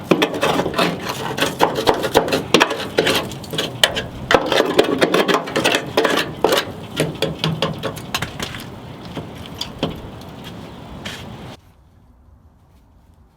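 Hammer and chisel knocking rust out of a 1958 Volkswagen Beetle ragtop: a rapid, irregular run of sharp metallic taps, loud and close, gradually thinning out before stopping abruptly near the end.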